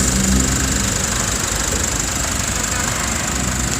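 An Isuzu All New 1.9 diesel idling, a steady, loud, close engine drone with an even knocking pulse and no speech.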